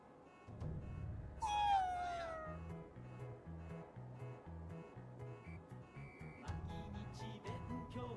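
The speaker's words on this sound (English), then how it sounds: "Is that a cat? Is that a cat? Technically, it's a yokai." A yokai cat in Ghostwire: Tokyo gives a single clear, drawn-out meow over quiet game music with a low rhythmic pulse.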